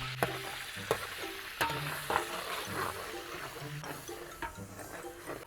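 Garlic sautés in a pan as the base for a pancit Malabon sauce, making a soft, low sizzle broken by repeated sharp taps and scrapes of a spatula against the pan.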